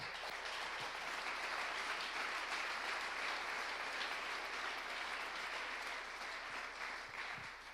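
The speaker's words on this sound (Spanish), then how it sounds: "Un aplauso a Dios." A church congregation at a Spanish-language service claps together in steady, dense applause that holds evenly for several seconds from a moderate distance, with no talking over it.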